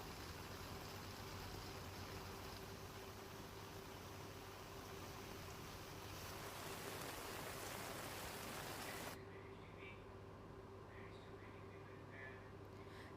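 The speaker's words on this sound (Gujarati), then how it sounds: "વહેલી સવારથી જામેલા કાળા ડિબાંગ વાદળો એવા તો વરસ્યા કે વલસાડ તરબોળ થઈ ગયું" Heavy monsoon rain pours over Valsad, Gujarat, as a dense, unbroken hiss that stays steady throughout and loses some of its brightness about two-thirds of the way in.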